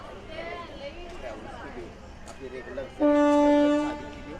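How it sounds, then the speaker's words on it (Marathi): People talk amid background station noise, then a train horn sounds loudly and steadily for about a second near the end. "आणि ही आपली ट्रेन आहे"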